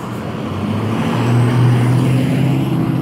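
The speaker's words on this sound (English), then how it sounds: "that's a big truck that passes by" A big truck rumbles past outdoors, a steady low engine roar that swells in the middle and eases off, heard alone with no talk.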